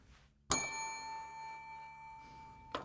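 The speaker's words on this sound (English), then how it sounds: "For example, a bell" A single bell struck once as a classroom noisemaker, ringing out with a clear sustained metallic tone that fades slowly over about two seconds, followed by the start of a second strike at the end.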